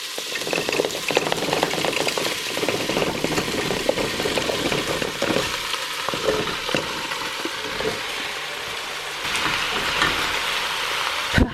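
Chopped carrot, onion and celery frying in a pan for a vegan smoked garlic pumpkin soup, a steady close sizzle with scraping stirring clatter, fairly loud and with no talk.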